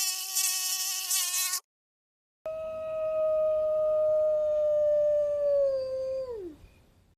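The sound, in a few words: mosquito buzzing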